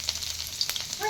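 Garlic sizzles in hot oil with a steady close crackle and scattered small pops, no one speaking.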